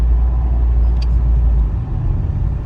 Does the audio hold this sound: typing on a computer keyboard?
no